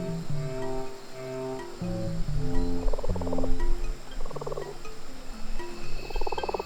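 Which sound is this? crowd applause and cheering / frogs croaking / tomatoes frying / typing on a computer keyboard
frogs croaking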